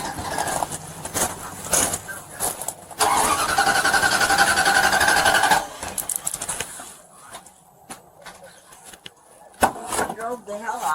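A car engine cranks with a loud, sustained churning for a few seconds but fails to catch, with shorter cranking attempts before and after and voices talking nearby.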